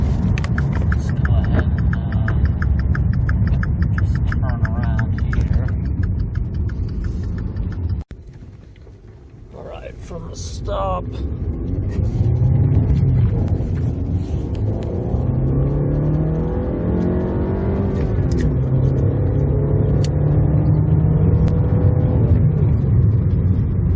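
A 2013 Dodge Dart with an underboost fault rumbles loudly from inside the cabin, then goes quiet with a sharp click before the engine swells again into a rising, revving acceleration that holds strong to the end.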